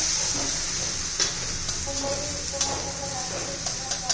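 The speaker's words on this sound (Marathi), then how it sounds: "मॅगी मसाल्याचं एक पाकिट घालून घेऊ छान परतून घेऊ" Leftover chapati pieces sauté with Maggi masala in a pan, making a steady hissing sizzle with light, intermittent stirring clicks, at fairly close range and with no talking.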